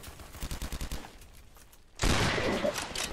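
Roblox video game gunfire: a quick rattling series of shots, then a sudden loud, sustained burst of blasting noise that fills the rest of the moment.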